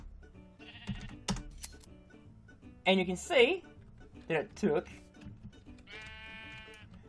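In Minecraft, a sheep bleats twice as a robot shears its wool, with short clicks and blips around the bleats. A voice talks over part of the sound.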